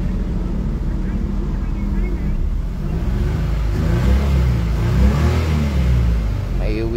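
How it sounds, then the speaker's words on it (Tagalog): A shaky car engine that was misfiring earlier revs and rumbles unevenly close by, rising in intensity, while people talk over it. "Manginig ang kanyang makina."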